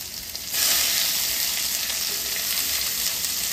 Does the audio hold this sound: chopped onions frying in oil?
yes